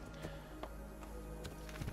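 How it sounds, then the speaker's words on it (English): Horse hooves clip-clop in Assassin's Creed II, a steady run of soft, evenly spaced beats over a constant game ambience, with no voices. "Get up on the horse."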